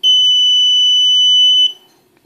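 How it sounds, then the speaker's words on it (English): A piezo buzzer on a breadboard circuit with an LED and a double throw switch sounds one loud, steady high-pitched electronic tone for about a second and a half, then cuts off abruptly, followed by a faint click. "that's my example of a circuit with a buzzer and an LED on a double throw switch"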